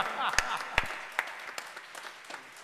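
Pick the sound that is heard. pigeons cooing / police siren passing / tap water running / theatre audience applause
theatre audience applause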